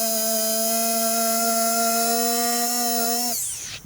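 A wire wheel on a drill spins steadily against a classic car body, grinding away rust and paint with a sustained high whine for several seconds before spinning down at the end.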